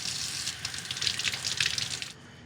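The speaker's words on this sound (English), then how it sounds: "So rinse them well in cold water." Shrimp are rinsed under cold running tap water, a steady splashing stream from a faucet into a sink, close and fairly loud, fluctuating as the shrimp move through it before stopping abruptly near the end.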